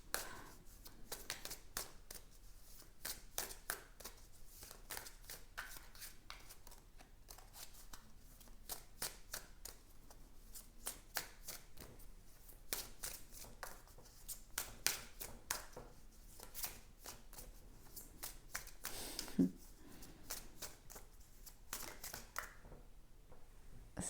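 Tarot cards being shuffled by hand, a long run of dense rapid riffling and flapping bursts with brief pauses, close and fairly quiet throughout.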